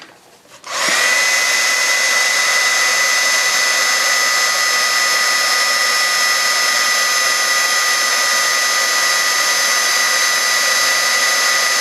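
A heat gun blows steadily on shrink plastic laid on an old heavy-duty metal desk, switching on after a brief quiet moment and then holding a loud, constant whirring hiss throughout.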